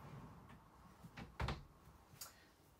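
Dresser drawers in an RV bedroom slide open and shut, a few soft rolling glides ending in one solid muted thump, with a lighter click afterward in a quiet room.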